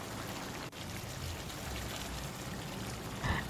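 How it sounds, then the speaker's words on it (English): 100 ml of hot water poured into a pot of curried mutton bones, a soft continuous trickling stream over a low background, ending with a brief brighter splash. "Adding 100 ml of hot water because we need to cook this for a little while longer."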